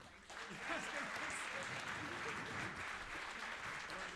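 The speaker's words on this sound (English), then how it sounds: "I feel like you clapped for two." An audience at a swing band show applauds the bass player and drummer: steady, dense clapping at a moderate distance holds for about four seconds, with a few voices mixed in.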